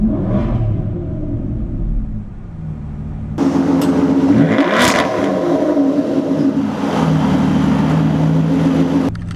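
A 2017 Aston Martin V12 Vantage S coupe idles, then its V12 engine is revved hard in a loud, close burst that rises and holds with a deep rumbling roar.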